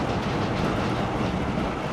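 Steel rice trucks rattle along a railway track with a dense, steady clatter and rumble, loud and close throughout with no voices.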